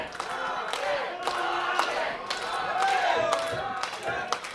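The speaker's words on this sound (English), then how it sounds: "This crowd's getting behind Krofton" Wrestling crowd at a Campbell River tag-team match cheering and chanting, a steady broadband roar throughout with scattered claps and shouts, under a commentator's voice.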